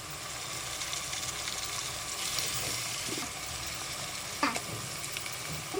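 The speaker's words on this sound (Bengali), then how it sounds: "মশলাটাকে ভালোভাবে কষিয়ে নিতেছে" Garlic paste and spices, including bay leaf, cinnamon and cardamom, frying in a pan, a soft continuous sizzle with faint stirring scrapes near the end.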